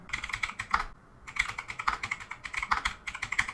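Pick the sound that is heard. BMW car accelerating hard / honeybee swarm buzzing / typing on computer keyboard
typing on computer keyboard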